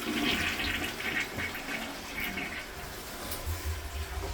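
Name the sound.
hotel toilet flushing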